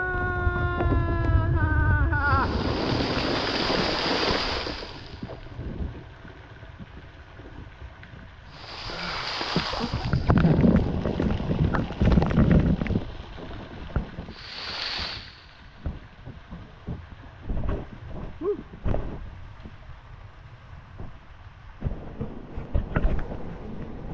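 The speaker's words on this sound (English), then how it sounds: "Under waterfall." Water pours and rushes loudly inside a flooded underground river cave while tubing beneath an underground waterfall, a steady roar rising in surges with splashing bursts and scattered knocks.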